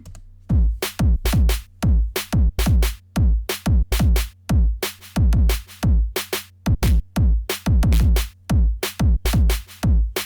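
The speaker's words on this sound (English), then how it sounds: "this is what the drum sounds like right now." A punchy electronic drum beat with booming kicks and sharp snappy hits in a fast, busy pattern, loud and dry with no voices.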